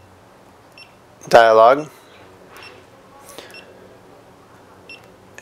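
A GoPro Hero 3 action camera gives short electronic beeps as its front and shutter buttons are pressed, with a few brief clicks in a quiet room and a voice speaking in between.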